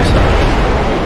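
A loud P-270 Moskit anti-ship missile launch from a Sovremenny-class destroyer in the Cold Waters naval game: a continuous, roaring rocket blast that fills the whole moment, close and overpowering.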